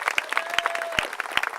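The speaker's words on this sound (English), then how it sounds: "But let's give a round of applause for Sylvie putting this together." An audience at an annual dinner applauds, scattered individual claps ringing out sharply in an indoor room rather than a dense roar.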